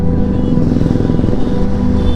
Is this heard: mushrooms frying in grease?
no